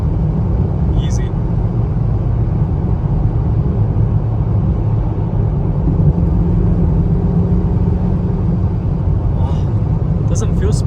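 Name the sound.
Ferrari Roma car being driven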